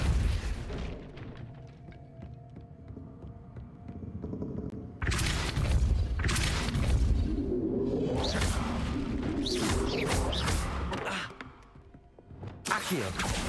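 Heavy magical blasts in Hogwarts Legacy, a Depulso force spell among them, landing as loud booming whooshes in a sustained barrage, with a brief lull before a final burst; a voice speaks during it.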